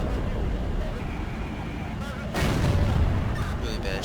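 A tank destroyer's gun fires in World of Tanks, a single heavy boom that rolls into a rumbling, noisy tail over a steady engine drone, with a voice talking over it.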